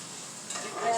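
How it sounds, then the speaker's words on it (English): Seasoned meat sizzling in a pan while being stirred, a brief soft hiss and scrape heard close up. "Give that a stir."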